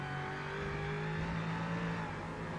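GT3 race car heard onboard in a sim racing game at the Mexico City circuit, a loud, steady engine drone whose pitch shifts slowly as the car holds speed, with no talking.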